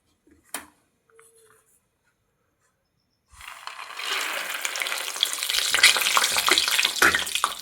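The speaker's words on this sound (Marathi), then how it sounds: "आता तेल गरम झालं तर त्यामध्ये शेंगदाणे टाकले तळण्यासाठी." Peanuts drop into hot oil and start frying with a sudden steady sizzle that holds for several seconds, loud and close. A few faint clicks come just before.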